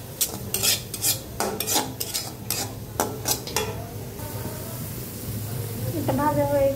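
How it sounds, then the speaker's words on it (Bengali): Beaten egg stirred into a frying mixture in a pan for noodles. A metal utensil makes repeated scraping clicks over a low sizzle, and the stirring stops as the frying hiss carries on alone. "ডিমটাকে একসঙ্গে ভালো করে মিশিয়ে নেব।"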